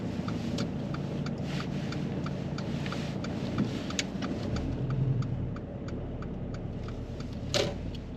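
A car engine runs at a low, steady idle while the vehicle reverses during a driving test, with faint regular ticking over the hum. No voices are heard.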